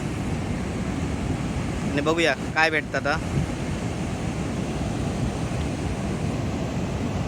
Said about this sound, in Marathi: वारो पण सुटलेलो त्यामुळे उलटी सुलटी लाटा येतात